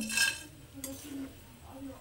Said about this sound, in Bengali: দেখুন কত সুন্দর মচমচে হয়েছে আর ঝরঝরে শব্দ হচ্ছে